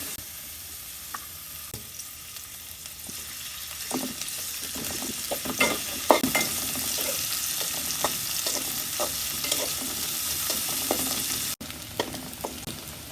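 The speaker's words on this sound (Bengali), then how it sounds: "এখন আমি পেঁয়াজগুলো দিলাম পাতিলে" Sliced onions hiss and crackle in hot oil in a cooking pot for a Bengali rohu fish and potato curry, with a steady close sizzle and scattered scraping clicks of a spoon stirring, no voices.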